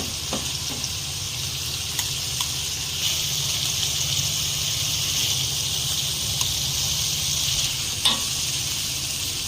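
Steady, continuous sizzling of vegetables and mushrooms frying in a hot pan for soup, with occasional faint clicks of stirring, no voices.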